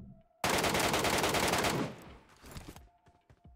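Dense burst of automatic gunfire in PUBG Mobile's Metro Royale mode, a loud continuous volley lasting over a second before trailing into scattered fainter shots and echoes.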